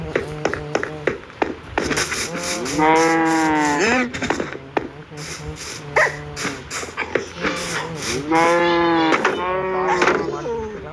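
A mooshroom cow in Minecraft gives several loud, drawn-out moos in succession, each a long tonal bellow, with short clicks and game sounds between them.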